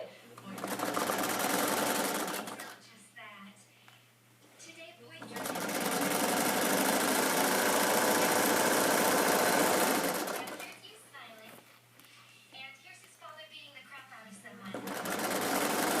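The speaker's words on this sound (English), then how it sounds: "And we will go ahead and, just like with all other seams, stitch that in." Domestic sewing machine running in bursts as it stitches a kick plate seam, loud steady whirring runs broken by pauses where a person talks over quieter background.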